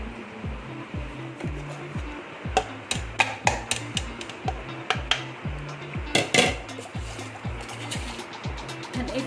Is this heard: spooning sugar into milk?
yes